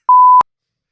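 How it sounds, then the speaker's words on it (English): One loud, clean censorship bleep, a steady pure tone of about a third of a second cutting over explicit speech, followed by silence. "Beep that out."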